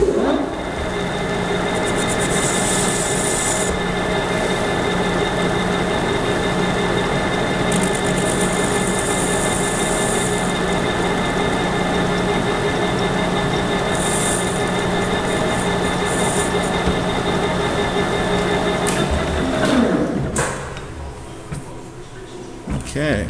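A Clausing drill press chamfering the outside and inside diameters of a part: a steady, loud machine drone with high whining bursts, winding down abruptly near the end.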